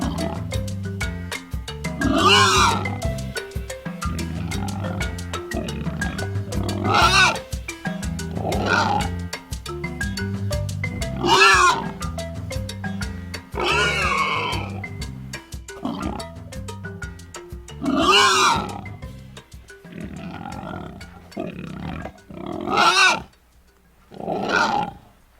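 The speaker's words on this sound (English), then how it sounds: "Boar." Wild boar vocalizing in its natural habitat: repeated loud grunts, snorts and roaring squeals in bursts every few seconds, close and alone, with a few sharper high squeals near the end.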